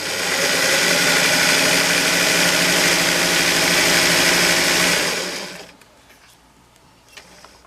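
A sewing machine runs steadily and loudly while stitching an elastic waistband, a dense whirring hum for about five seconds. It then stops abruptly, leaving a quiet room with a faint click.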